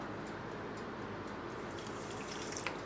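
Water is poured into a bowl of eggless whole wheat chocolate cake batter, a quiet continuous splashing trickle with faint brighter sloshes toward the end and no talking.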